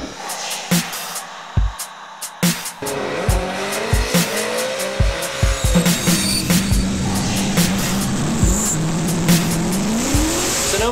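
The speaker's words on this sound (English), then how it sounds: "pulling the handbrake sideways into a tight corner" A drift car at Sonoma track swings sideways through a tight corner on the handbrake, its tires squealing in long loud screeches over a revving engine, with sharp bursts and clicks throughout and no talking.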